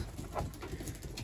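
Soft cooing of show pigeons inside a loft, faint and brief, with light rustling and no speech.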